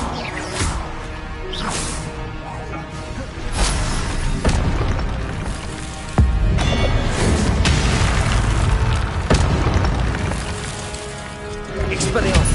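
Blasting-curse explosions from the Confringo spell in Hogwarts Legacy boom repeatedly amid whooshes and crashes of a spell duel, loud and close, with a player shouting spell names over the fight.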